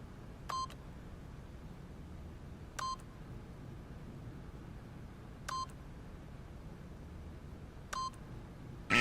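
Keypad beeps sound as a PIN is entered in The Stanley Parable, four short clear electronic tones evenly spaced a couple of seconds apart over a quiet background hum.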